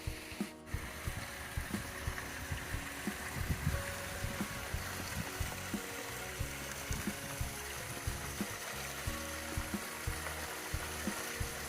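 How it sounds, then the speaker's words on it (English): Waterfalls splashing into a landscaped garden koi pond, a steady close rush of falling water with scattered clicks and spatters running throughout, no voices. "Listen to those waterfalls."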